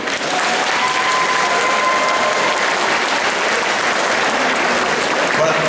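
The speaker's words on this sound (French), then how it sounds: "il faut les applaudir" Dense, steady applause from a large audience at a cosplay contest and parade at the Necronomicon convention, continuous and fairly loud with no break.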